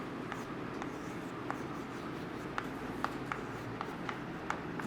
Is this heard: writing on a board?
yes